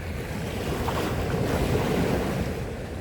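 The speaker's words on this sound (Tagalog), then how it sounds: "Yung tunog ng alon." Steady wash of ocean surf rolling onto the shore at high tide at Middle Bay Beach, Repulse Bay, Hong Kong, continuous and fairly loud, with some wind buffeting the microphone.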